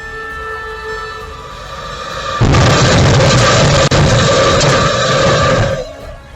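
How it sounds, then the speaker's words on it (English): A speeding train roars past at close range, a loud rumbling wash of noise that swells suddenly, with a sharp impact thud partway through as it slams into the rear of a van, before fading. "a speeding train slams into the rear of the"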